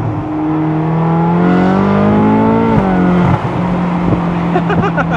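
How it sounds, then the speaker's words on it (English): Ferrari California with its DCT gearbox and valved exhaust accelerating hard, a loud close engine note rising steadily, dropping sharply at a quick gear change, then climbing again with crackling pops, a voice faintly underneath. "With the DCT, these shifts, look how fast these shifts are."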